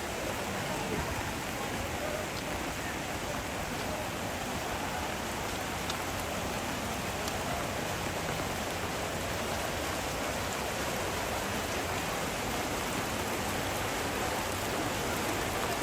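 Steady heavy rain pours down across a tarp at a gathering, a dense unbroken hiss of drops spattering on surfaces, constant and fairly loud for the whole stretch.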